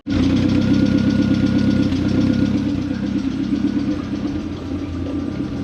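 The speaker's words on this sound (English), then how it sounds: "so now I can turn the ignition on" A Ford Fiesta MK1 engine fires up at once and settles into a steady, close, rumbling idle with a faint knocking throb, alone without voices.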